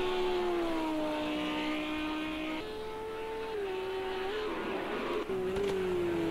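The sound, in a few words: GT3 race car engines from a video game race at Sakitto GP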